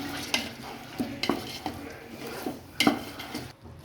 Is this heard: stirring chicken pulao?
yes